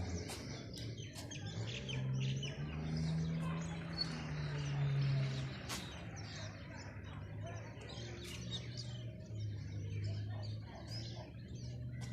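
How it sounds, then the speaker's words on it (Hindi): Birds chirp and tweet in quick, scattered calls over a low outdoor hum, with insects buzzing faintly in the background. "आप पहले चिड़ियों की आवाज़ें सुने"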